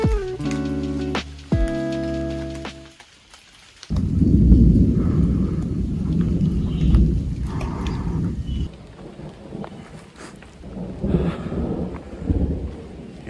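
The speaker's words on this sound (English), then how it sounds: "Hear that thunder?" Deep rumbling thunder rolls on and on, loud and close, on Overlook Mountain in the Catskills, after a brief stretch of tonal sound at the start; no voices.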